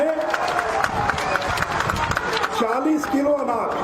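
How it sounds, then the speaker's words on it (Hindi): A large crowd at an outdoor political election rally breaks into dense, continuous clapping mixed with a noisy crowd murmur, loud and steady throughout. "एक बार तो नरेंद्र मोदी के नाम पर जोर से ताली बजा दीजिए"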